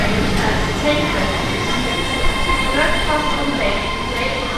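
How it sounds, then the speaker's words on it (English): A train pulls into a station platform on a line serving London King's Cross and Stevenage, with a loud, steady rumble and faint wheel squeal throughout. "let's wait for this train"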